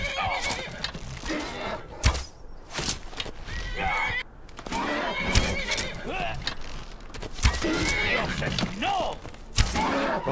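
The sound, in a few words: horse Sombra neighing in Skyrim video game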